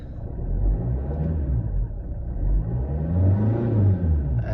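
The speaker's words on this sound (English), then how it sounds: "I'll take it for a drive, see how it goes." A Land Rover Freelander 2 with a faulty intercooler pipe pulls away from rest, its engine rumbling low and rising steadily as it accelerates, heard close and alone.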